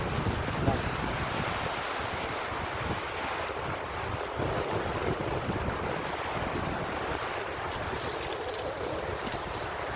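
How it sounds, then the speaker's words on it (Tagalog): Sea waves at a seashore wash in a steady, loud roar, blending with gusty wind buffeting the microphone throughout. "Tabing nga dagat mga guys."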